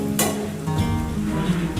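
A brief scrape of a utensil stirring chowmein in a pan, with steady sizzling of frying underneath.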